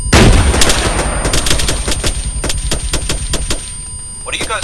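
Rapid gunfire from an Arma 3 battle, loud, close bursts of repeated shots in a fast irregular rhythm that thin toward the end, with voices talking over the shooting.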